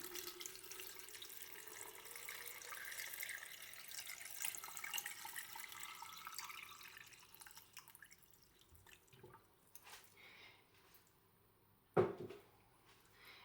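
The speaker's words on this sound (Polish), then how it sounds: "Zaleję wodą." Water streams from a tap over beets set to ferment with bay leaves, garlic and allspice, a soft steady pour that fades, followed by a few drips and a sharp knock near the end.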